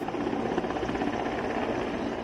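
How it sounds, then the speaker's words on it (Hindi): An Indian Air Force helicopter circling over flooded Patna, its rotor thudding in a steady continuous drone, fairly loud and alone with no voices. "आसमान में चक्कर काटता हेलीकॉप्टर सैलाब का सितम झेल रहे भूखे और बेबस लोगों के लिए उम्मीद की किरण जैसा है"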